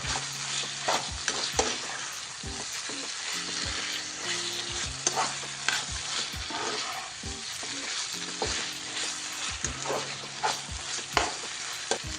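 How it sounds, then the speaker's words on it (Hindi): Kashmiri chicken kanti with green coriander is stirred in a sizzling pan, a steady fry hiss broken by repeated scraping and clinking strokes of the spoon, close and clear with no talking. "मिक्स कर लेंगे इसको अच्छे से हरे धनिया के साथ"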